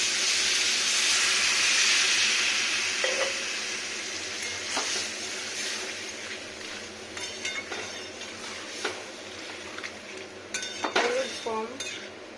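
Water poured into a pan of sizzling raw moong dal, a loud steady hiss at first that settles into softer bubbling, with utensil clinks and scraping of stirring near the end.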